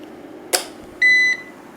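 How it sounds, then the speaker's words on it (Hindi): A Zebronics ZEB-U725 UPS for a PC gives a single short electronic beep the moment mains power cuts out, preceded by a quick click in a quiet room. "तो जैसी लाइट गई इसने एक बीप मारी आपको"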